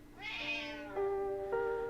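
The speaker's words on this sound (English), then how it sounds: "She always meows." A cat meows close by, one long rising-and-falling meow followed by two shorter, lower calls, clear and alone with no talking.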